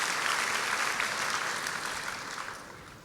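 A church congregation claps warmly during a sermon, a thick, even burst of applause that is strongest at the start and slowly tapers off, with no talking over it.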